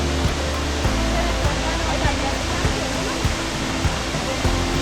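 Aberdeen Waterfall at Ginigathhena in Sri Lanka roars as a loud, continuous broadband rush of falling water, close and unbroken, drowning out other sounds.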